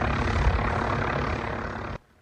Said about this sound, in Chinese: 无人机飞机架海岸升空